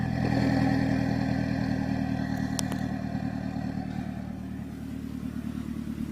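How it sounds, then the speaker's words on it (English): A turbocharged car engine with a catless open downpipe idles with a steady, rumbling clatter, heard close and continuous for several seconds. A few faint high whistles cut through it briefly. "I don't know if you can hear it, but you can hear the turbo."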